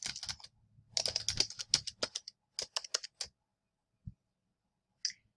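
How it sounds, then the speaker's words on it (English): Code being typed on a computer keyboard during a JavaScript lesson: bursts of quick, close key clicks with short pauses, ending in a couple of isolated taps, no talking. "So I'm going to type in the keyword function."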